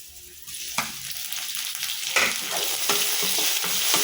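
Tomatoes go into a pot for Filipino sinigang and start to cook, a broad steady sizzle with a few clattering stirs and knocks rising over it, close and continuous.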